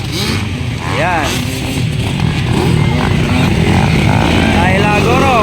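Racing motorcycles in a ladies class final at the Tinalak Festival in Tupi, South Cotabato, their engines buzzing and rising in pitch amid a loud, continuous crowd-and-announcer din with people talking throughout.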